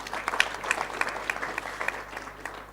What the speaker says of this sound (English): may we give the Minister a round of applause